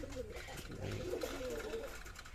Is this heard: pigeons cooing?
yes